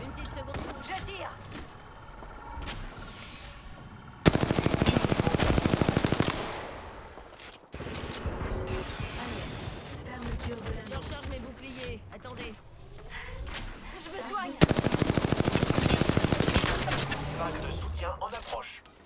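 Two long, loud bursts of rapid automatic fire in a shooter game ring out close and sharp, separated by quieter stretches of clatter and game effects, while someone talks over the action in French.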